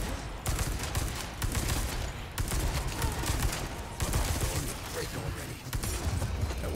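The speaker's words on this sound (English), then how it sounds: "Just shoot. Shoot the gun." Dense gunfire in Resident Evil 4 Remake, loud, rapid overlapping shots and booming blasts in several bursts with brief gaps, up close.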